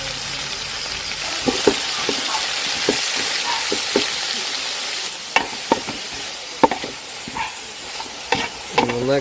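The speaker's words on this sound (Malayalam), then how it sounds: "നന്നായിട്ടൊന്ന് ഇളക്കി കൊടുക്കണം." Onions and curry leaves frying in oil, stirred steadily with a utensil; a continuous close sizzle runs throughout, punctuated by sharp scraping and clinking strokes against the pan, with no talk.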